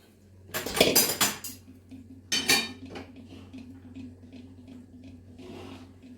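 Gram powder and ground dalia are mixed for laddu, a spoon clattering against a metal vessel in two short, loud bursts, followed by quieter scraping and a low steady hum, with no voices.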